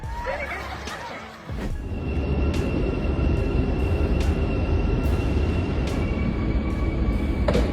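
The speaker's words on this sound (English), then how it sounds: "a passenger train passed through the station at the exact moment the Hogwarts Express appeared" A passenger train rolls through a station after a brief quieter moment, settling into a steady broad rumble with faint repeated clicks and thin tonal whines, crowd murmur around it.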